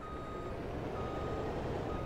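A semi-truck in Farming Simulator 22 gives off steady, evenly spaced reversing beeps over a continuous engine rumble, loud and close throughout.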